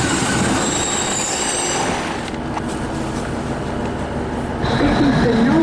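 A London Midland Class 150 diesel train rumbling along the rails to Southport with a low engine drone, shifting wheel noise and a brief squeal near the end, heard from inside.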